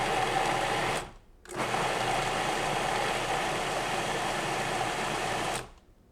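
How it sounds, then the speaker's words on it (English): A food processor pulses a vegan lasagna filling with a close, loud motor whir in two bursts, a short run then a pause and a longer run of about four seconds. "So my food processor is ready."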